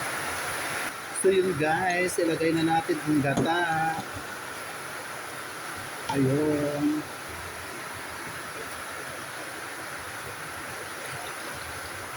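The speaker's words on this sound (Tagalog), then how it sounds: "Ang lakas ng ulan na." A steady broadband hiss of heavy rain drumming on a roof fills the whole stretch, with a person talking briefly over it.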